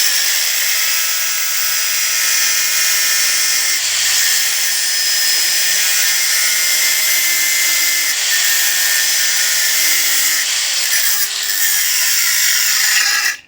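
An angle grinder cutting stainless steel, throwing sparks, a loud, harsh, continuous whine lasting the whole stretch before cutting off abruptly at the end.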